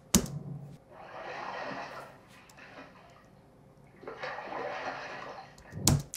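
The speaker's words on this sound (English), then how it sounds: "Those were two sounds I found on Epidemic Sound called like bathtub water splash or something" Bathtub water splash effects standing in for someone climbing onto a Sea-Doo personal watercraft: two broad, rushing sloshes of water, each lasting about two seconds, separated by a brief lull and framed by sharp close knocks at the start and end.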